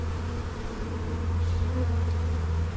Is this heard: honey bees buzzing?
yes